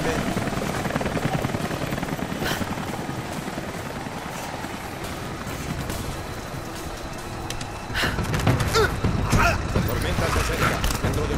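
Helicopter in the video game Rise of the Tomb Raider, a steady loud rotor thrum and engine whine throughout that swells louder near the end, with speech from people over it.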